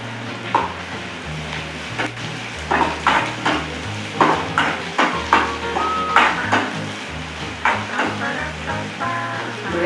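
Onions sauté in a pan on low heat with curry leaves, a steady sizzle broken by repeated scraping stirs of a spoon against the pan, close and busy over a low background hum.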